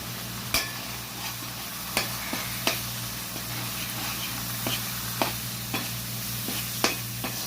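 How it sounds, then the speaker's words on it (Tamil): Curry chilli powder mixture for fish curry sautéing in a pan, a steady close sizzle broken by regular scraping strokes of a spoon against the pan about every second, with no one speaking. "ஒரு கலவையாக ஆக்கி நல்லா போட்டு வதக்கிக்கணும்"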